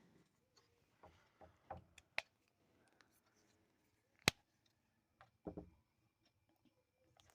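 A pen scratches short strokes onto paper while someone works a class 10 maths problem, brief scattered taps and scribbles separated by quiet gaps, close and faint.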